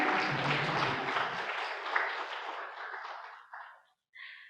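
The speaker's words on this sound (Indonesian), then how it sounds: "boleh tepuk tangan sekali lagi hadirin sekalian" Audience applause at a formal open session of a university board of trustees, a dense, loud burst of clapping from a large hall crowd that thins out and fades away toward the end.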